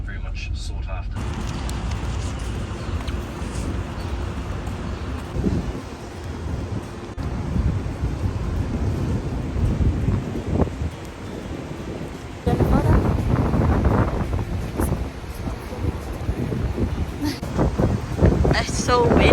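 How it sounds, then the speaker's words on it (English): Strong gusty wind buffets the microphone outdoors on an Auckland city lookout, a constant rough roar that surges louder in the second half, with brief faint voices. "It's so windy."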